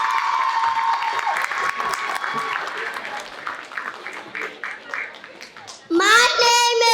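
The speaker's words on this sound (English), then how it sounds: "give her a round of applause" Audience applause at a kindergarten oratorical contest, steady hand clapping from a crowd that carries through most of the stretch, with a voice briefly audible near the end.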